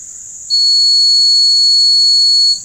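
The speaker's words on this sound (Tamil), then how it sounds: "உடனே அலாரம் கொடுக்க ஆரம்பிச்சிட்டு" A PIR motion sensor alarm sounds: a loud, steady, high-pitched and shrill electronic beeping tone that starts abruptly and holds continuously for about two seconds before cutting off.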